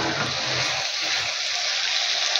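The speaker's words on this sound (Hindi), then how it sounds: "थोड़ा सा पानी डाल लें ताकि मसाला जले ना" A broad steady hiss of water poured into sizzling masala fills the clip, with a brief low sputter near the start.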